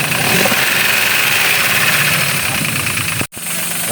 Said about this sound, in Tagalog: Nahingay na yung kanyang makina